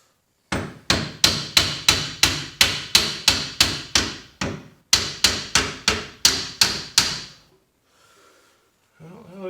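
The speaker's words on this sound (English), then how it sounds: "Just tapping the leaf spring into position here." A hammer taps a leaf spring into position while installing a shortened Ford 8.8 rear axle with Caltracs under an S10 Blazer: two rapid runs of sharp metallic strikes, about a dozen each, close and loud, followed by a brief quiet.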